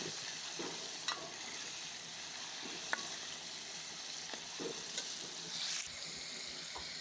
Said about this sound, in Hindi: अब हम इसमें चिकन ऐड कर देंगे। चिकन को अच्छी तरह से फ्राई करेंगे।